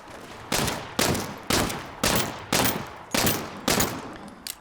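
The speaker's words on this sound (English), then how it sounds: "You can hear as it's running out of ammo, there's like a designed asset in there which makes it sound more hollow, more clicky as you start to run out of ammo" Gunfire from the Saints Row video game sounds as six evenly spaced, loud shots about once every half second, each with a short decaying tail, with a hollow, clicky low-ammo quality; no voices.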